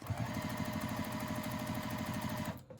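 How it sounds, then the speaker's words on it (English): A sewing machine stitches along a fabric edge while piecing a quilt-as-you-go star tree topper, a rapid, even mechanical chatter heard up close that runs steadily and then cuts off near the end. "I'm gonna take this over to my sewing machine and just sew right along this edge"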